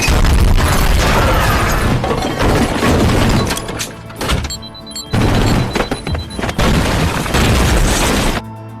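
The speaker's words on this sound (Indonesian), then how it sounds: "Jack meledakkan tempat itu." Explosions rip through a building being blown up in an action film, with heavy crashing booms and rumbling debris in several loud bursts separated by brief lulls.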